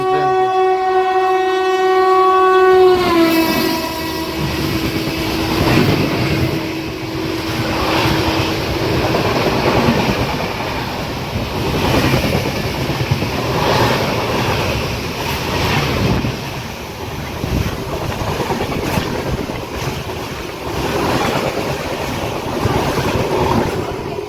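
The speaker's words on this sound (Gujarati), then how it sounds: "ફાઇનલ ભાઈ ક્રોસિંગની ટ્રેન આવી ગઈ છે." A train horn blares at a railway crossing, then the passing train rumbles by in a long, loud, steady roar of wheels and cars that lasts to the end.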